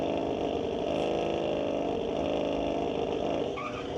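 An Audi RS3 and a BMW run at a street-legal drag strip night at Mission Raceway Park, their engines a loud, steady, continuous roar that holds throughout with no pauses, close and dominant.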